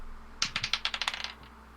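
A tabletop gaming die clatters onto a computer keyboard and ricochets off it, a quick run of about a dozen sharp plastic clicks that speed up and fade within a second, close and alone.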